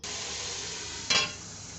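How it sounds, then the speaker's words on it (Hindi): Steady close sizzling of chicken frying in masala in a pot, with a brief louder hiss as it is stirred. "चिकन ने पानी छोड़ दिया है, अब हम इसको अच्छी तरह भून लेते हैं।"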